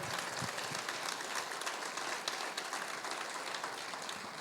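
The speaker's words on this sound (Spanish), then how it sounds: "Si va a aplaudirlo, hágalo fuerte." A church congregation applauds loudly during a sermon, a dense even wash of clapping throughout with no break.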